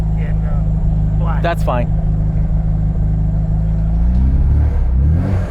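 A supercharged JET Motors remastered Mini Cooper idles with a steady low engine rumble that swells slightly near the end, while people talk close by.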